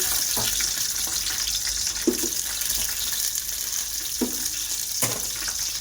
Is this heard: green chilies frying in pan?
yes